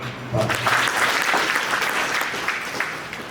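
An audience at a Lions Club of Bhuj event breaks into steady, full applause, a dense patter of many hands clapping that holds at an even level throughout.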